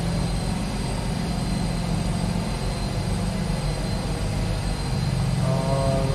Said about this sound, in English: We are taking off now.